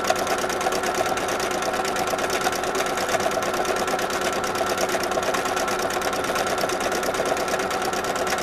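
Sewing machine running steadily through contour stitching with citrus thread on the sun rays of a spring sunrise zipper pouch, a fast continuous mechanical whir with rapid needle chatter, close and even throughout without pause.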